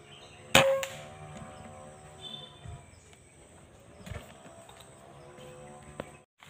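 A single sharp shot fired at a bird during a hunt outdoors, a loud brief crack early on, followed by quieter ambient noise with faint bird calls in the background.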